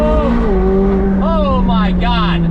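A McLaren 765LT Spider with rear-wheel drive accelerates hard, its loud engine note climbing and dropping through quick gear changes, close up, while someone speaks excitedly over it.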